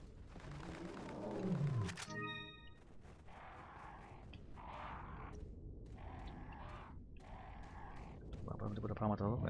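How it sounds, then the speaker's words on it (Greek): A tall monster roars in Resident Evil 4 Ultimate HD Edition, a loud growling roar with wild-animal character that rises, breaks off, then returns in several sustained bursts, mixed with game ambience and other effects. "Κάτι ακούγεται τώρα εδώ πέρα. Είναι ένα τέρας ψηλό, θυμάμαι."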